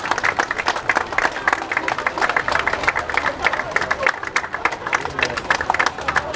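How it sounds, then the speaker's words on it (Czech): An audience at the Havířov v květech 2018 folk festival claps steadily throughout, a dense, continuous applause of many hands at close range with a murmur of crowd beneath. "Prosím, zatleskejme jim."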